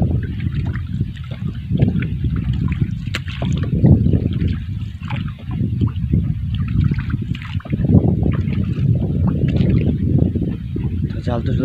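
A small fishing boat moves across water in a village setting early in the morning, steady trickling and gurgling of water along the hull continuing throughout, fairly loud and close.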